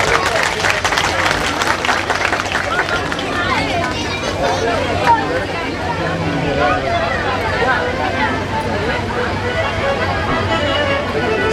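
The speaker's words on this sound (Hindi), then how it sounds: "लोग तालियों से एक बार स्वागत करें।" Audience at a Ram Katha religious discourse applauding to welcome honoured guests: a dense burst of clapping from a crowd, strongest at the start, then fading into a murmur of hubbub.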